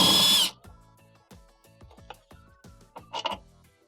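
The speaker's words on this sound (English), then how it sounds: "start to remove the bolts" Bolts are worked loose from the drive motor of a Frigidaire washer, beginning with a loud burst of tool whirring, then a string of short clicks and metallic ticks close by, with no talking.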